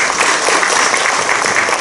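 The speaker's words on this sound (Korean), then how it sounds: "큰 박수 해주시겠습니다." Audience applause welcoming the assembly moderator at a church general assembly debate forum, a brief, loud, even burst of many hands clapping.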